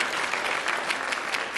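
An audience at a commencement ceremony applauding, dense continuous clapping from a large crowd filling the whole moment.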